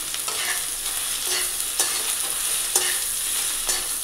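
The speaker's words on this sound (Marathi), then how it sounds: "भेंडी चांगली आपण यालाही परतवून घ्यायची" Okra sautéed in a pan sizzles with a steady hiss of frying, broken by several scrapes and light knocks of a spatula turning the pieces at a close, even loudness.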